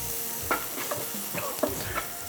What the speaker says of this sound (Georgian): ზეთი. ცოტა ხანში დაიწყებს დუღილს.